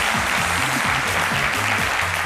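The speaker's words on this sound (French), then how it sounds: "C'est celle de Paulus Agathon que nous allons applaudir très fort" A studio audience on a French TV talk show applauding continuously, a dense, even wall of clapping with a musical motif playing underneath.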